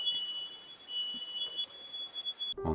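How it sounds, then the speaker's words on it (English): A household fire alarm shrieks in one continuous high-pitched tone for a couple of seconds, then cuts off abruptly as a voice starts. "a woman is home alone when something terrifying happens and her fire alarm goes off"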